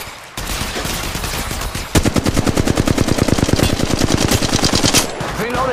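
In the Apex Legends Mobile video game, an attacking squad opens sustained automatic gunfire, a loud, fast, rapid-fire burst of evenly spaced shots that runs for several seconds, close and harsh, after a brief burst of noise at the start.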